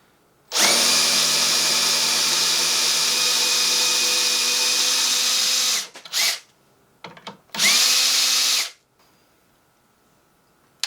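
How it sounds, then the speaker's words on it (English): A power drill fitted with a left-handed drill bit whines loudly while backing out a screw, one long steady run, then a stop, short bursts, and a second brief run before silence. "the left-handed drill bit just pulls it right out"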